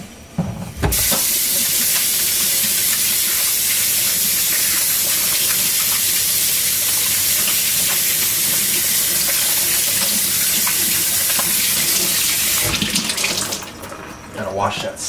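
A strong spray of water hisses loudly and steadily while washing product off after shearing, starting and stopping abruptly, with a voice heard briefly near the end.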